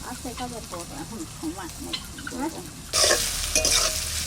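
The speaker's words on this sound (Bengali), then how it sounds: "এবার একটু ভাজা ভাজা" Chopped onions fry in a pan with bay leaf and whole garam masala for a mutton curry, sizzling under a woman's speech before a louder burst of hissing as they are stirred.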